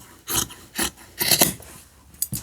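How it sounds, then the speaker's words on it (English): Scissors snip an arch into t-shirt fabric, four or five close, raspy cuts in uneven rhythm with short quiet gaps between them. "I'm just going to cut an arch in the front,"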